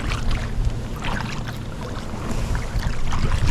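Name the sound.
kayak paddle forward and sweep strokes in water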